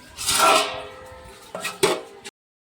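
A metal lid is set onto a pot of raw mangoes boiling in salted water: a bright scraping clatter, then two quick clinks close by before sudden silence.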